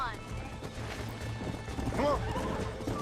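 A horse in Red Dead Redemption whinnies sharply while its hooves clop along, with someone talking over the top and background game ambience.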